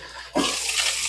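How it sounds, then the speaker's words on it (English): Water rushes and splashes steadily into a cooking pot after a brief quiet moment, a close, continuous pouring stream. "Put a little water in there,"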